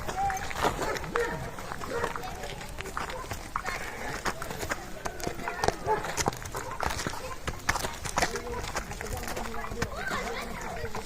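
Draft horse hooves clop irregularly on firm ground nearby while people talk over them, with some shuffling and rustle around.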